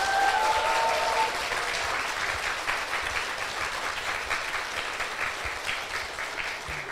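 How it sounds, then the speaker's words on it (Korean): Audience at a live podcast recording on feminism gives a round of applause, steady dense clapping from a mid-sized crowd that starts strong and tapers slightly while continuing, with no talking over it. "한 번 더 박수 부탁드리겠습니다."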